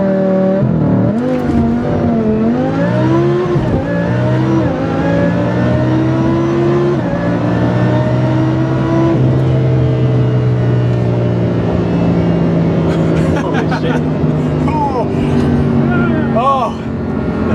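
A supercharged Lamborghini Huracan under launch control revs hard to about 4,500 rpm, then its loud engine roars up through sweeping climbs as it launches and accelerates away, close and continuous for the whole stretch.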